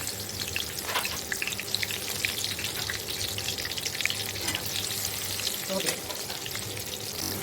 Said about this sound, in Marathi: आता तळायला टाकले थोडे थोडे तळून घेऊया आपण एकदम नाही सगळे टाकत